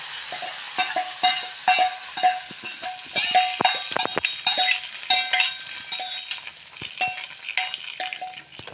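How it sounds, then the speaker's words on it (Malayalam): Loud crackling sizzle of hot oil with fried mustard seeds poured into curry, with sharp pops and spits and a few metallic clinks from a pan throughout. "ഈ കറിയിലേക്ക് നമുക്ക് കടുക് വറുത്ത് ഒഴിച്ചു കൊടുക്കാം."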